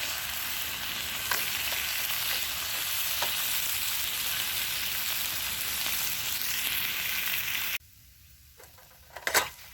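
Bacon sizzles and fries steadily in a pan at a campsite, a dense continuous crackle with occasional pops, ending in a quieter stretch with a few sharper clinks near the close.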